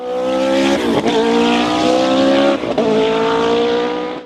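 A Formula 1 racing car, Osella-engined from around 1988, screams past at high revs, loud and close, with two sharp gear-change dips in the engine note before it climbs again.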